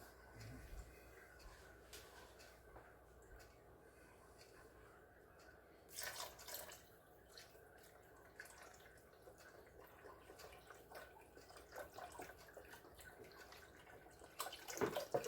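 Chicken broth poured from a carton into a pot of meat gives soft, uneven liquid trickling and splashing, with a couple of louder pours and quieter gaps between them.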